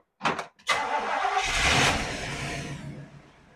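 A 1981 Jeep CJ-5 engine cranks in a couple of quick, loud bursts, then catches and fires up, the motor roaring briefly before settling into a steady rumbling idle close by, with no talking.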